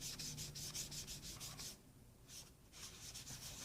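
Sponge dabbing pink ink onto paper in a card-making craft, a faint, close series of rapid soft scrubbing and rubbing strokes with a short pause midway.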